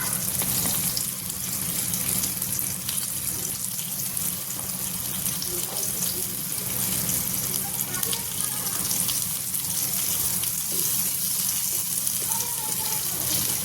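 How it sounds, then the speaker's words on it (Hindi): Okra fries in a pan on a tava, giving off a steady, close sizzle and crackle throughout, with faint occasional stirring. "बहुत बढ़िया भिंडी है, थोड़ा सा इसको फ्राई कर लें"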